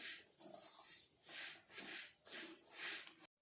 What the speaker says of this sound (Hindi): हमारे तिलों के चटखने की जो आवाज़ है ना वो आना शुरू हो गई है